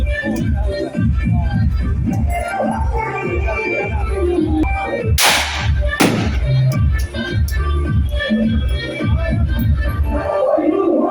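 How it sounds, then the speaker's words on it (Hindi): Supporters celebrating an election win fire guns into the air: two loud, sharp shots in quick succession ring out over a dense, noisy crowd and music, close and prominent above the din. "जीत की खुशी में किस तरीके से उनके समर्थक हर्ष फायरिंग कर रहे हैं"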